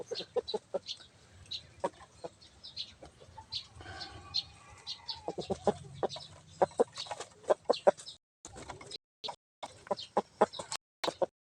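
A gamecock clucks repeatedly in short, sharp bursts, close by, with a longer drawn-out cackle partway through and brief silences between calls.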